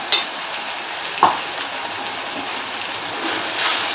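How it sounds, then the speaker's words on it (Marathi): Maggi noodles being mixed with Maggi masala and a little homemade masala in a pan on the stove: a steady sizzling hiss throughout, with two sharp clicks near the start and no talking. "आता मिक्स करून घेते"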